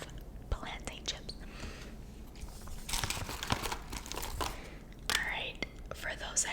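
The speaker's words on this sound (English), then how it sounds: "for those that hate the chewing sounds, I'm sorry" Crunchy plantain chips being chewed up close in ASMR style, with crisp crackling bites and crinkling bursts that come and go over soft whisper-like breathy sounds.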